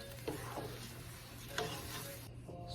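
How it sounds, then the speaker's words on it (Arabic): Flour gets stirred into a simmering sauce for lamb shanks in a pot, a soft steady scraping swirl with a couple of brief clinks from the spoon and a faint sizzle beneath, no voices. "شوفوا نظل نخلط بيه لحد ما الطحين كله يموع عندنا."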